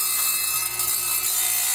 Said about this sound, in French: Ensuite, il va la pousser vers la scie.